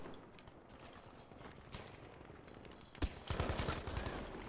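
Gunfire in the online shooter Battlefield 5 around a bridge, faint distant shots at first, then a sharp crack followed by a denser, louder stretch of sustained fire.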